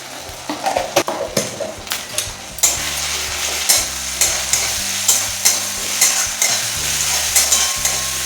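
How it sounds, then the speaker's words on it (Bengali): Garlic and ginger paste frying in a pan after onions, with a continuous sizzle and brisk, rhythmic spatula scrapes close by, loud and steady with no voices. "2 মিনিট ভালোভাবে কষিয়ে নিচ্ছি।"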